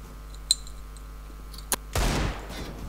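Gunfire in a first-person shooter video game: two sharp isolated shots, then a loud, dense burst of fire that trails off over about a second.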